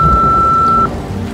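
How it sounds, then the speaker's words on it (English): An answering machine in a Nancy Drew video game gives a single steady electronic beep, clear and loud, lasting nearly a second before cutting off. "please leave a message after the beep"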